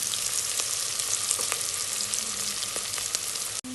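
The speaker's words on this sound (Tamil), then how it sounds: "வெங்காயம் நல்லா பொன்னிறம் ஆகிற வரைக்கும் நல்லா வதக்கிட்டே இருங்க." Onions and green chillies frying in a pan to make chicken biryani, giving a dense, steady, loud sizzle with a few faint stirring clicks and a brief cut near the end.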